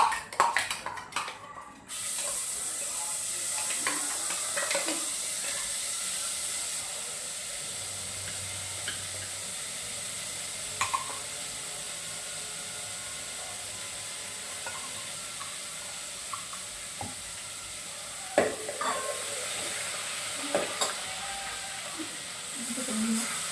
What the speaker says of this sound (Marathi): हे जे थोडंसं वाटण ठेवलेलं ना आपल्याला ते त्याच्यात परतून घ्यायचं आहे.